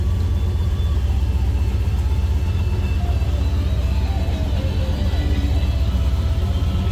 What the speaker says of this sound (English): Hear that with the door open and the car running indoors here